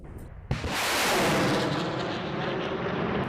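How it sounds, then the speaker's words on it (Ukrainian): A sharp blast kicks off a sustained, roaring rumble of BM-21 Grad rocket launches, loud and continuous with no voices. "екіпажі БМ 21 38-ї бригади морпіхів стріляють, каже Срібний"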